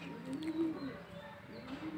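Pigeons coo softly near a loft, a few low rolling coos in quick succession, fairly close but quiet, with faint chirps in the background.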